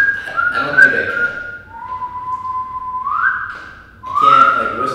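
Someone whistles a few held tones, stepping down then back up in pitch, close and clear, with faint voices murmuring around it.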